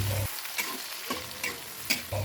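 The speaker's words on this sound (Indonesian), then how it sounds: "lanjut aku mau goreng apa namanya ini, percabean sama bawangnya" Chili and shallots sizzle steadily in hot oil in a pan outdoors, with repeated close scrapes and clacks of stirring breaking through the frying.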